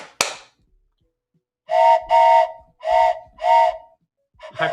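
A steam train whistle sound effect plays for a stream's hype train. It gives four loud, steady blasts in quick succession, each holding a bright tone, with a short burst at the start and the tail end.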